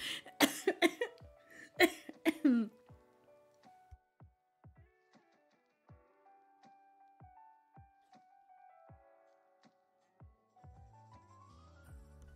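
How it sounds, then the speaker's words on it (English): Voices briefly at the start, then a quiet stretch with a few faint, sharp thumps and soft background tones rather than a clear cough. "I had to do an ugly cough"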